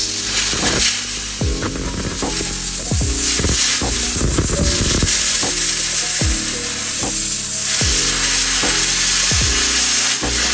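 An ANDELI CUT-65DS 65A plasma cutter cutting through half-inch steel, a loud continuous roaring hiss close by with repeated crackling, popping bursts throughout.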